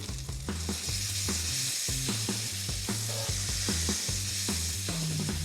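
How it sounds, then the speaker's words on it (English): Bacon crackles in a pan after being flipped, cooking until crispy. A steady hiss runs under frequent sharp pops and spits, close and moderately loud, with no talking. "Let me flip my bacon."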